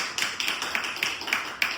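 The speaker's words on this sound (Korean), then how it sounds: "우리 박수를 한번 보내드립시다" A church congregation at a Sunday worship service clapping together in a quick, even rhythm: six or so crisp, bright claps in under two seconds.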